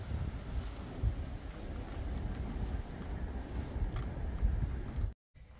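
Steady wind roars across the microphone in a low, continuous rush, ending in a sudden brief silence.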